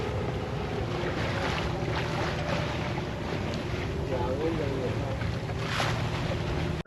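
Steady wind roars across the deck of a 1969 Alden 32 sailboat under way, with constant wind buffeting the microphone and water rushing along the hull. The noise stays loud and unbroken throughout, and faint voices sit low in the mix.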